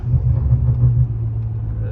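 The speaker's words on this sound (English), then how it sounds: "I love the sound of the N55" A BMW N55 engine rumbles low and steady from inside the car, a deep droning hum while driving at low speed in cold weather.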